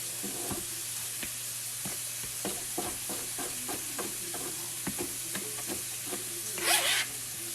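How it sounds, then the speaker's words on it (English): Bacon sizzles and browns in a pan over steady frying hiss, with scattered small pops and stirring scrapes throughout. "The bacon is coming along. We're going to keep browning it."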